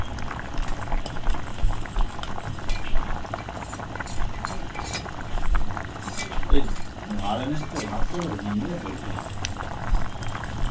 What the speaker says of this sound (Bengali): আমাদের চাটা ফুটে গেলে আমরা নামিয়ে দেবো।